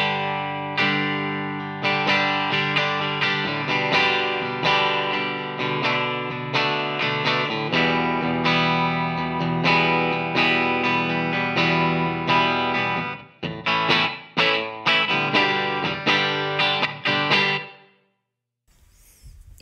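An electric guitar plays ringing chords and single notes through a Helix modelling a Fender Princeton Reverb clean tone, sustained and fairly bright, before cutting off near the end.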